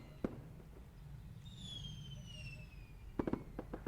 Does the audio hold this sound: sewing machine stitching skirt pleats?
no